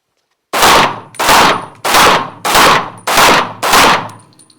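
Six loud, sharp pistol shots fired in an even rapid rhythm while the shooter moves during a practical shooting drill, each crack followed by a short ringing decay, close and with no voices.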